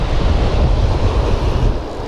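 Ocean surf breaking and washing onto a beach during surf fishing, a steady loud roar of churning waves with wind buffeting the microphone throughout, no voices.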